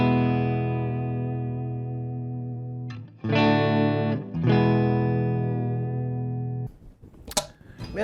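A Gretsch 5420T hollow-body electric guitar on its neck pickup through a Marshall amp's clean channel with almost no gain and a touch of reverb, playing a long ringing chord, then two short strummed bursts, then a few picked notes.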